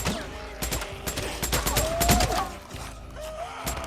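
Gunfire against a zombie horde in Days Gone on PS5: rapid bursts of shots crack in quick succession over groans and thuds, busy and mid-distance, with the volley thinning toward the end.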